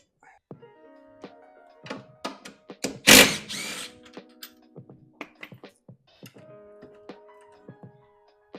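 An impact gun fires one short, harsh burst on 13 mm strut brace nuts, surrounded by scattered metallic clinks and knocks from working under a car's bonnet.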